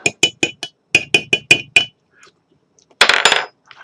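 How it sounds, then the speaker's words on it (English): A pumpkin spice cocktail made with thick cream of coconut is stirred: a quick run of bright clinks against the glass, a short pause, then a brief rattling burst. "And then we're just going to give that all a stir."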